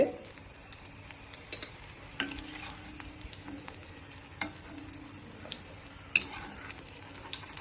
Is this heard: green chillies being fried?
yes